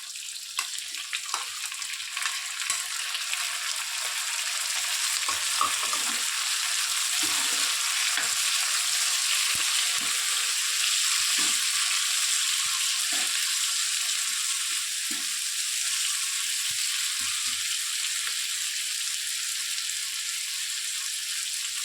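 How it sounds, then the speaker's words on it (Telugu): Five or six chopped medium tomatoes sizzle steadily in a hot pan for Andhra-style chutney, with a constant bright frying hiss and intermittent scraping and clacking from a spoon stirring them. "తర్వాత కట్ చేసి పెట్టుకున్నటువంటి 5 నుంచి 6 మీడియం సైజ్ టమోటాస్ వేస్తున్నాను"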